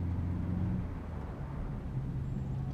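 A car moves steadily in the Assassin's Creed video game with a low, faint engine drone. The hum wavers slightly in pitch and carries no other prominent sounds.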